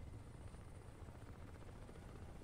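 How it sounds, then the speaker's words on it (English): An enemy helicopter in the Crysis video game drones steadily, its low rotor and engine rumble holding loud and constant with no speech over it. "Is that enemy helicopter?"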